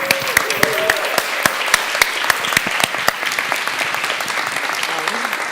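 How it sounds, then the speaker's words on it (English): Applause from a conference audience greeting the METALAB co-founder, with sharp individual claps standing out over a dense steady patter of hands, fairly close and sustained throughout, with a voice briefly audible. "please give a big applause to the co-founder of METALAB"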